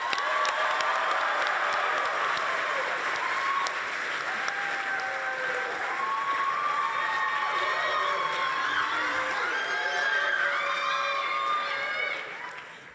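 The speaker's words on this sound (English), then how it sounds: "Let's have one more round of applause." Audience at a product launch presentation applauds and cheers continuously, a steady wash of clapping with scattered shouts and whistles, then cutting off near the end.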